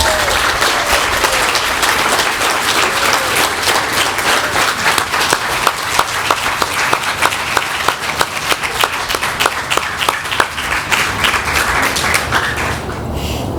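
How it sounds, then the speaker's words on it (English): An audience gives sustained, loud applause for the staff at a USTA Florida 75th anniversary celebration, with dense clapping throughout and a few sharper claps standing out before it fades near the end. "can you give them a big round of applause?"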